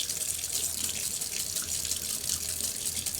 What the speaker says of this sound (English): get some hot water going here